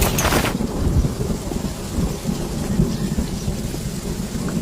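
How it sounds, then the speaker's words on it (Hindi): Steady heavy rain pours throughout, with a loud thunder crack bursting at the very start and then rolling low rumble beneath the constant downpour; no one speaks. "अरे रुकिए, बारिश हो रही है"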